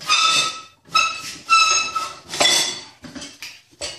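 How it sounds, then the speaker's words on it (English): A metal rod is twisted around a pole to pry the bead of an Exmark Vantage mower tire off its rim, giving loud, repeated metallic squeals and clanks in several separate bursts with no talking. "I'm twisting this rod around this pole, and eventually I'm going to pop this bead."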